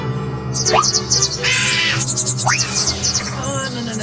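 A bird screeches sharply several times, harsh cawing calls rising in pitch, with chirps in between, fairly close and loud.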